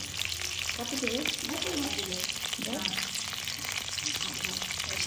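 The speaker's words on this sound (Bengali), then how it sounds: "এরপর এখানে তেল দিয়ে দিলাম কড়াইতে ডারচিনি এলাচি দিয়ে দিয়েছি তেজপাতাও দিয়ে দেওয়া হলো" Cinnamon, cardamom and bay leaves frying in hot oil in a wok, a steady close sizzle with occasional stirring scrapes, with faint talk underneath.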